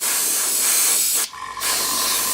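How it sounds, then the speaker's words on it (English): An airbrush sprays Lifecolor camouflage paint with a loud, close, continuous hiss that cuts out briefly for a moment before resuming just as steadily. "Seems to be spraying on quite nicely anyway"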